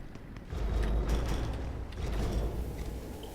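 Stone door mechanism grinding open in Immortal Redneck, a continuous creaking, rumbling churn of gears lasting a few seconds, loud and close.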